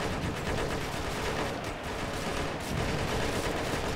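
Heavy, continuous gunfire in a modern combat game set in Operation Flashpoint: Red River, a dense roar of overlapping rifle and machine-gun shots with a brief lull before resuming, no voices.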